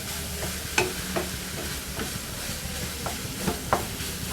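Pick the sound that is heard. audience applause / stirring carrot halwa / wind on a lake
stirring carrot halwa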